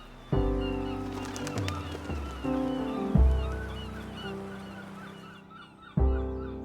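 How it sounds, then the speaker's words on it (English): Herring gulls calling over a seaside town in Aldeburgh, with loud honking cries repeated in several bursts, some overlapping, close and clear above a faint background. "like every seaside town, it's occupied by gulls, and the herring gull is quite distinctive"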